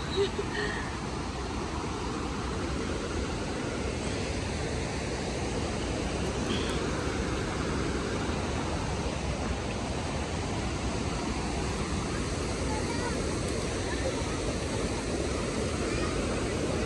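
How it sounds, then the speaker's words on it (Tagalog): A steady, continuous rush of flowing water in Bath, England, even and unbroken throughout, with faint bird calls now and then. "Ganda ng sound ng tubig."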